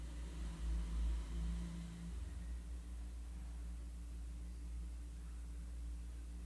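An electric trike rides downhill in Boracay with a steady low rumble of motor and road that swells briefly at the start and then stays even and continuous.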